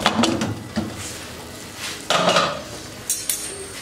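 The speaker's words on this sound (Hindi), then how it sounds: "अब ढक्कन खोल लेंगे" A cooking pot lid comes off a mutton aloo gosht stew with metallic clinks and clatters, followed by a couple of sharp metal taps.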